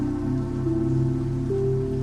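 Steady rain falls as a soft, even patter beneath sustained, humming tonal drones that hold throughout.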